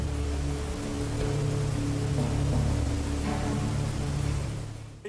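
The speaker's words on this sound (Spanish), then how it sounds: "se encuentra el sonido de una de las cascadas más ruidosas y espectaculares de los Alpes, las cataratas de Trummelbach" Trümmelbach Falls, a loud Alpine waterfall, roars as a steady, dense wash of rushing water with a deep pulsing low rumble, continuous and close throughout.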